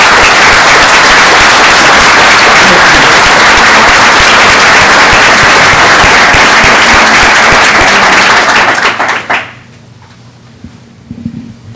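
Loud, dense audience applause at a county leadership event fills the room for about nine seconds, then cuts off abruptly into quiet room tone with a few faint sounds.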